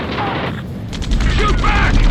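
Rapid gunfire in Ace Combat 7 crackles in quick bursts over a low rumble, with booming impacts and chaotic battle noise throughout.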